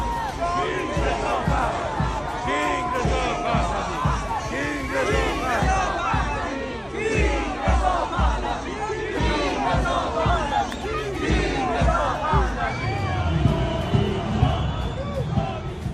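A crowd of demonstrators cheers outside the Iranian embassy in London's Kensington area, with steady loud shouting, chanting and babble of many voices throughout.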